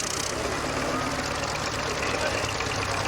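Australian-made tractor with a GM two-stroke diesel engine idling smoothly, a steady low throbbing drone under faint background noise and speech.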